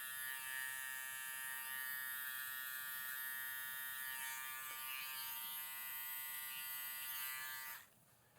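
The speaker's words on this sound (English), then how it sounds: "I use this trimmer to get rid of the zero line over here" An electric hair trimmer buzzes steadily and close during a skin fade haircut, a constant high whine that cuts off near the end, with no voices.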